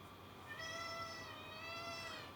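A hungry pet cat meows twice in long, drawn-out cries, close but fairly quiet, with no talking.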